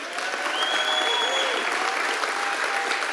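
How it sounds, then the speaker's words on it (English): Audience applause for a pastor at a church session, a steady wash of many hands clapping that holds at an even level throughout, moderately loud with no voices standing out. "Can we give a round of applause for your pastor, please?"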